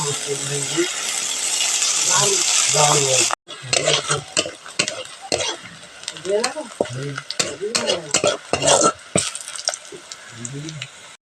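Onions fry in oil in a kadai with a bright, steady sizzle, broken by scraping stirs and metallic clinks of a spatula, while a person talks intermittently over it.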